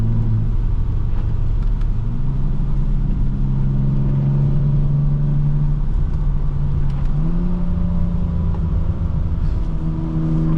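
A 2016 BMW M235i xDrive's three-liter engine hums and rises through the gears of its ZF 8-speed automatic as the car drives, with steady revving tones shifting in pitch; no talking.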